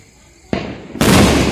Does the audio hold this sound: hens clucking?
no